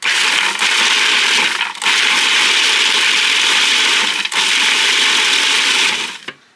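A kitchen blender pulsing to grind walnuts, three loud, sustained whirring bursts separated by brief pauses, with no speech.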